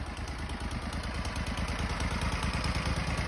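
The engine of a rented wood chipper runs steadily at high revs nearby, a continuous pulsing drone with faint mechanical clatter.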